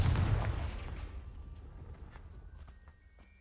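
A Confringo blasting spell explodes in the Hogwarts Legacy video game, giving a loud, deep boom up close that rumbles and fades over a few seconds, with faint scattered clatter afterward.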